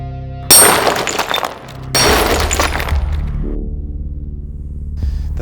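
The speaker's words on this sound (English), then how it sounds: "The thermal shock causes the glass to rapidly expand in one small location, and the energy from that makes the piece explode." Glass pieces violently shattering from thermal shock as molten glass is applied by a glass artist, two sharp loud bursts of breaking glass followed by tinkling fragments and lingering clinks, with no talk.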